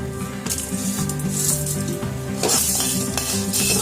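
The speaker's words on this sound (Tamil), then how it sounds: "நம்ம எடுத்து வச்ச பொருட்கள் எல்லாம் எண்ணெய் இல்லாமல் இது வறுக்கிறோங்க" Spices dry-roasting in a pan without oil for a mutton sukka gravy: close, busy rattling and scraping as they are stirred, with a light crackle and a few sharper clinks.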